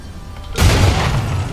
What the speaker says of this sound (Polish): zobaczcie, co to wybuchło